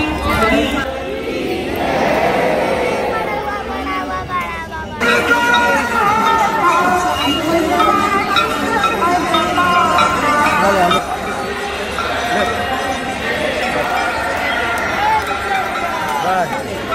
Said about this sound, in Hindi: पीछे आप मेरे देख सकते हो बहुत ज्यादा भीड़ है